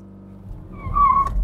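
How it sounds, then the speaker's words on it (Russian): Wheelspin from a Dacia Logan diesel launching from standstill: a rising tire squeal over the low engine rumble, getting louder toward the end of the short burst. "О да, пробуксовочка!"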